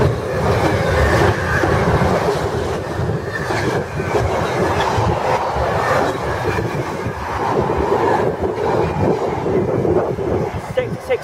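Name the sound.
Freightliner freight train 66501 passing through station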